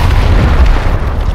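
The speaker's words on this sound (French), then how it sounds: "Gare à l'explosion!" A loud, deep explosion in the Gears Tactics video game, a heavy rumbling boom with a sustained low roar that decays slowly over about a second.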